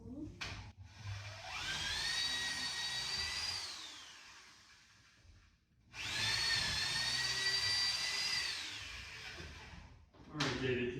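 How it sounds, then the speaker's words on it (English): A power drill bores holes for carriage bolts in model railroad benchwork, two long loud whining runs with a steady pitch that sags at the end of each, separated by a short pause and ending as a third burst begins. "I'm just going to drill a hole for these carriage bolts."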